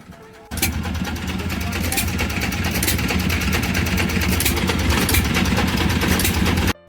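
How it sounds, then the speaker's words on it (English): An Amish hit-and-miss engine driving a homemade ice cream maker at a steam engine show, a steady low chugging drone that starts abruptly and runs on with outdoor background noise. "homemade ice cream, produced by the Amish using a hit-and-miss motor"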